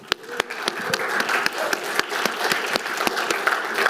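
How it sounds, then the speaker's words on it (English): An audience claps for the four pitching companies at a final pitch event: steady, moderately loud applause with distinct individual claps standing out from the rolling patter. "I'd like to give a round of applause to all 4 of them."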